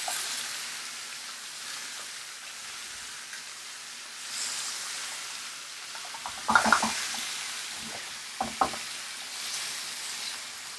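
Thick-cut veal osso buco searing in a pan, with a constant soft sizzle throughout and a few sharper clatters of the pan and utensils midway, heard without talk.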